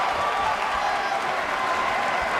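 A large wrestling arena crowd claps and cheers steadily during an Impact Wrestling tag match, a dense, continuous wash of applause with no single voice standing out.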